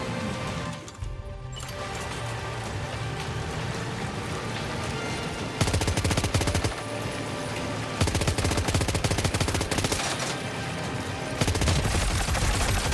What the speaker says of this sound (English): Pull out the assault rifle.